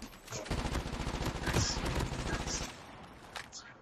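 Rapid bursts of gunfire in Call of Duty rattle continuously, dense and loud, then taper off into scattered shots.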